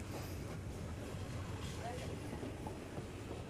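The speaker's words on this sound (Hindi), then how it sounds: "हमारी ट्रेन अब अप्रोच कर रही है पंचकोसी रेलवे स्टेशन को" Train approaching Panchkosi railway station on the Bikaner–Ambala line, a steady loud rumble of wheels and carriages heard from on board, with faint clicking.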